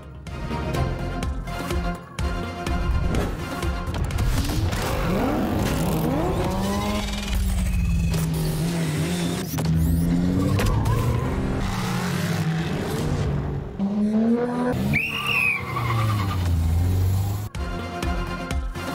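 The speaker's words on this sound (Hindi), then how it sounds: "पेशावर स्पोर्ट्स कॉम्प्लेक्स में ऑटो कार रेस 660 से लेकर 6000 सीसी इंजन तक मुख्तलिफ गाड़ियों की जोर आजमाई" Auto race cars with 660 to 6000 cc engines roar around the Peshawar Sports Complex track, revving and accelerating loudly with sweeping pitch changes as they pass, with brief tire squeal and crowd noise mixed in.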